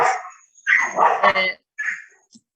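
A dog barking and yipping indoors, several short bursts with whimpery tones and gaps of silence, fairly close, alongside a person's voice.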